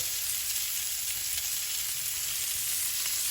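Potatoes fry in a pan with onions sprinkled over the top, giving an even, continuous sizzle up close with faint stirring and no speech.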